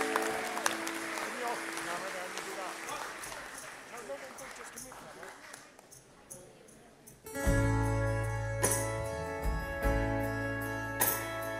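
Audience applause at a live concert for a support act at The Great Hall in Cardiff. Applause and cheering swell over a voice, then drop away as a band starts playing loudly.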